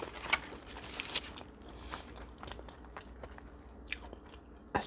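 Crunchy bites and steady chewing of an ahi tuna burger and fries, close and intimate, with sharp crunches breaking through softer mastication sounds and no talking.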